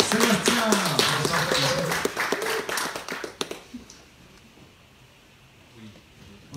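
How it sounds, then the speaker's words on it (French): An audience at a French Tech meetup in Strasbourg claps for a few seconds, a close, dense patter of hands that stops abruptly. Quieter murmurs follow. "je vous invite à applaudir Sébastien"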